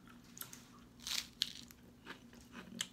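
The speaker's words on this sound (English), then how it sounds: "I really wasn't looking for too much of a crunch with the meat, because there's already enough crunch with the lettuce." Crisp bites into a lettuce wrap of Korean barbecued pork belly, a few close, sharp crunches followed by quieter chewing, with no talking.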